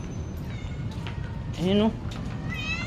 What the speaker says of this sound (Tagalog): may napadpad ng pusa mga boss